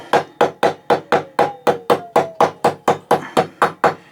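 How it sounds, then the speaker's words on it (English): Rapid, even metallic hammer taps, about four per second, ringing sharply on the thin steel teeth of a hand saw being set, in a steady rhythm, close by and alone. "So we just let the weight of the hammer just tap down"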